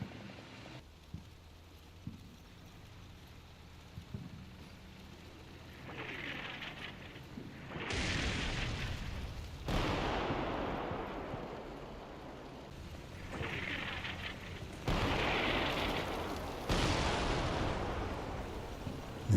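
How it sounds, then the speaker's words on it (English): Artillery barrage in the war game Combat Mission Black Sea: a quiet start, then several heavy, rumbling blasts from about eight seconds on, coming in roughly regular waves with long rolling tails. "There's nothing like artillery fire to encourage our boys to hoof it through our cabbage patch"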